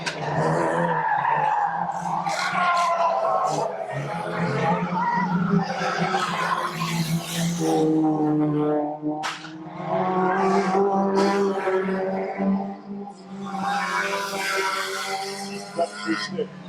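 Stock cars racing around an oval track, with engines roaring and tyres skidding continuously and loud throughout, while a commentator talks over the noise.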